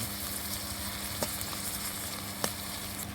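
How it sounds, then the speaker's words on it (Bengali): Onion lightly frying in oil for a Bengali koi fish bharta, a soft, steady sizzle at close range with a couple of brief clicks from the pan, and no talking. "পেঁয়াজটাকে আমি হালকা করে ভেজে নিচ্ছি।"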